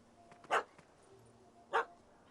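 A dog barking in the video game The Witcher 3, two sharp, separate barks about a second apart, faint against a quiet background.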